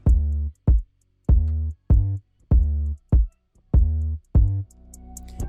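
A deep 808 bass with added attack plays alongside a punchy kick drum in FL Studio, about eight booming hits in a steady pattern, each with a sharp click on top and a long low tail, ending in a looser low rumble.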